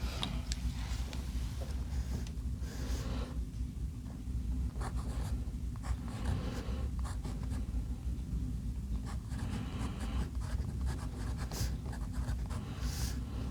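Parker 51 fountain pen writing on paper, a steady close scratchy scrape of the nib running continuously with small pauses between strokes.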